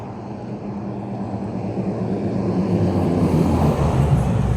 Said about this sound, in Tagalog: May eroplano pa.